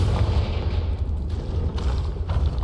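The Confringo explosive spell goes off in Hogwarts Legacy as a deep, rumbling blast with booming low-end impacts that roll through the short stretch, loud and close.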